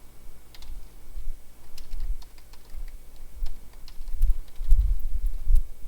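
Rapid, close typing on a computer keyboard, irregular bursts of light key clicks with heavier thumps toward the end, heard alone with no talking.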